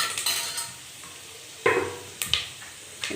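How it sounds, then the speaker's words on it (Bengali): Food frying in a pan with dried chili powder and turmeric, a low steady sizzle broken by several clattering stirs and scrapes of a spatula against the pan, close and alone. "শুকনো লঙ্কার গুঁড়ো, একটু হলুদ দিয়ে ভাজা হচ্ছে এনারিকেরা।"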